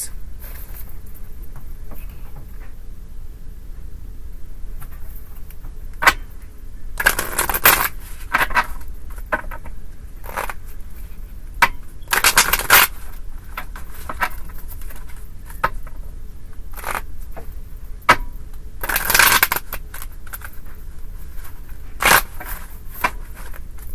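Tarot cards riffle and slap in short bursts with scattered soft taps and rustles between, close by and fairly loud.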